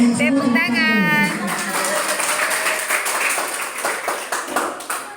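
Students in an elementary school classroom break into clapping after a teacher speaks briefly at the start, with the hand claps continuing fairly loud and irregular and fading unevenly toward the end.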